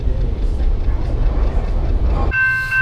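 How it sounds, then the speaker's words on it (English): A Metrolink train rumbles past along the LA River, loud and close, its heavy roar suddenly giving way to a brief high tone near the end. "Trains."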